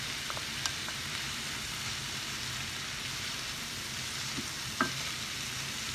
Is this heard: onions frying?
yes